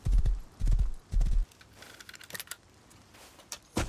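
Horse hooves clip-clopping in the survival game Rust, three heavy thudding steps up close, then quieter clicks and a final hoof strike.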